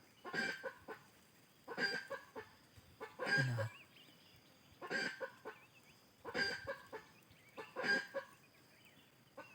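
A chicken clucks in repeated bursts, roughly every second and a half, fairly close in a quiet outdoor setting during a jungle fowl hunt.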